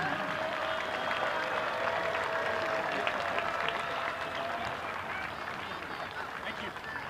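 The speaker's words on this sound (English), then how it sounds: "Let's have a big round of applause for our officials today." At a women's USL soccer match, the stadium crowd gives sustained, broad applause to the match officials, a steady wash of clapping and cheering with a voice over the public address heard above it.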